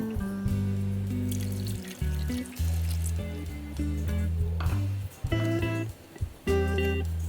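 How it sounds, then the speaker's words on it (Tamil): Water poured from a cup into a cooking pan while making ragi halwa, a steady close pour with several short breaks between splashes, no talking. "இப்போ எந்த கப்பால் நம்ம அளவு எடுத்தோமோ அதால் ஹாஃப் கப் அளவுக்கு தண்ணி சேர்த்துக்குவோம்"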